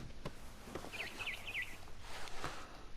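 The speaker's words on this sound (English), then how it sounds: "Then I heard chirping outside my window. It was a barn swallow going back to her nest." A barn swallow in the game What Remains of Edith Finch gives a brief series of three or four faint, quick chirps over soft rustling and light footsteps.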